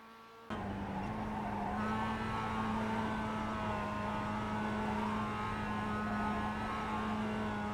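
Race car engine roaring steadily in the iRacing sim at Willow Springs road course, a loud sustained drone with rising harmonic whine from just after the start, no talk.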